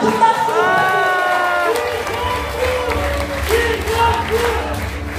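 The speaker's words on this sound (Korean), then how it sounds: "큰 박수!" A crowd at a Democratic Party political rally in a hotel in Incheon applauds and cheers loudly. The clapping forms a dense wash under excited shouting voices, and the sound stays strong throughout.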